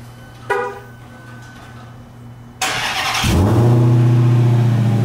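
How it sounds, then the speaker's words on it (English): A Dodge Demon's large V8 engine cranks briefly on a cold start, then fires up with a loud roar that settles into a deep, steady rumbling idle. "Start the Demon, it's the quietest."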